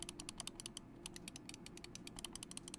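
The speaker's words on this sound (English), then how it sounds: "and the click noise of the V2 Pro." Quick, crisp clicks from a Razer Viper V2 Pro gaming mouse, fired in fast uneven runs, close and soft above a steady low hum, with no speech.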